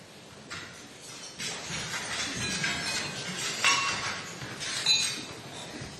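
Glasses clinking during a toast at a US state lunch hosted for India's prime minister, scattered light chimes rising over a steady room murmur of a large formal gathering.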